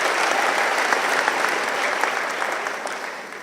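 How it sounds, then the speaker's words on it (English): A crowd at the 2024 European Day dinner in Taiwan applauds to welcome the president to the stage, sustained dense clapping from many hands at close range that begins to taper off near the end. "Round of applause, please."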